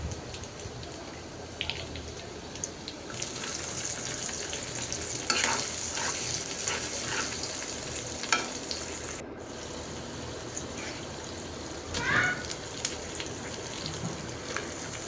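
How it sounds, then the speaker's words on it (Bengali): Chopped garlic fries in a pan: a continuous close sizzle, much like light rain, with occasional soft stirring scrapes over it and no talking. "তো এখন দিয়ে দিলাম রসুন কুচি। রসুন কুচিটা একটু ভেজে নিয়ে"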